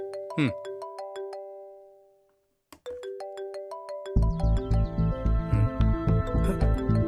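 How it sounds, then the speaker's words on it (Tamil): A mobile phone ringtone goes off during a home scene in a Tamil TV serial: a short chiming melody plays, pauses, then repeats louder over a heavy rhythmic backing beat, close and clear. "போன் அடிக்குது, யாருன்னு பாரு"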